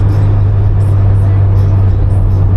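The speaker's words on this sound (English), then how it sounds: "the only noise that I have for the car at the moment is the exhaust" A loud, steady low drone from a car exhaust fills the cabin when lifting off the throttle, a constant booming hum with faint road noise on top.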